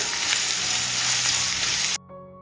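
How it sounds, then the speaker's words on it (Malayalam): Chopped onion, a medium-sized one, frying in a pan for an okra and egg curry, a steady loud sizzle that runs for about two seconds, then cuts out abruptly to a quiet tonal hum. "സവാള എല്ലാം ഒന്ന് വഴന്ന് വരട്ടെ."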